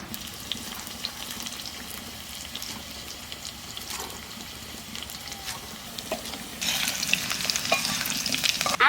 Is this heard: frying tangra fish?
yes